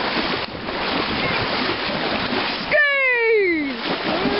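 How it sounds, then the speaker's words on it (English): Floodwater from a river rushes and churns steadily in the open, with wind buffeting the microphone; a whistling sweep briefly cuts across the wash partway through. "That's the river. And it flooded onto here."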